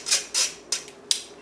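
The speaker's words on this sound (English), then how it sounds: "I'm gonna grab the back of a spoon and just break those through." Back of a spoon pressing sifted lumps of chocolate cake dry ingredients through a metal sieve, four short scraping rasps in a loose rhythm, close and fairly quiet.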